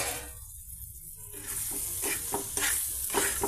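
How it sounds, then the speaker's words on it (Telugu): Ragi and sooji flour mixture frying in a pan with vegetable pieces for upma: a soft sizzle that builds, broken by several rhythmic scraping stirs, heard close and with no talking. "ఈ విధంగా 1 నిమిషం పాటు ఈ సోజీ అండ్ రాగి ఆటని ఈ పీసెస్తో ఫ్రై అవనిద్దామండి"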